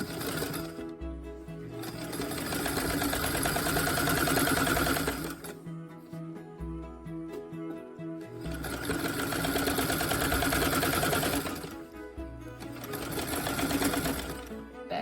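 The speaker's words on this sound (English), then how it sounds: "I'm going to sew it close to the zipper, and I'm going to back stitch it." A sewing machine stitches close to the zipper of a small fabric zipper bag, running in steady buzzing bursts of a few seconds each with short pauses between them, including back-stitching.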